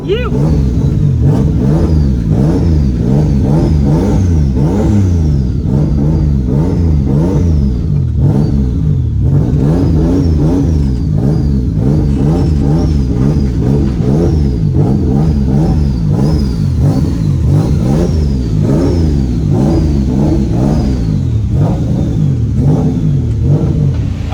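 A loud turbocharged BMW E36 M52B25 engine revs and drones continuously on a dyno, with repeated rising and falling pitch sweeps, mixed with voices talking over it.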